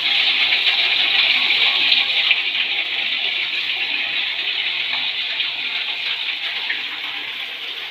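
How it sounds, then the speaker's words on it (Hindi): Indoor waterfall water feature in a modern luxury house, pouring in a steady, even rush of falling water that stays constant and fairly close throughout, with no voices. "एक वाटरफॉल बाहर है, एक अंदर"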